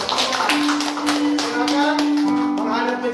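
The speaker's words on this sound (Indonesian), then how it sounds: "Oke, tepuk tangan dulu." Applause during a church wedding blessing, many hands clapping quickly and steadily in a dense, lively patter, with a sustained hum and voices underneath.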